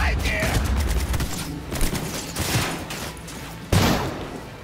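Rapid gunfire crackles in a shooting battle in the video game Cyberpunk 2077, dense bursts with sharper shots standing out, while a player talks over it.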